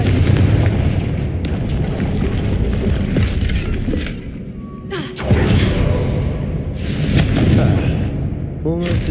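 Blast of the Confringo fire spell in Hogwarts Legacy, a heavy booming roar that fills the scene, dips briefly midway and then swells again, with a voice speaking over the rumble.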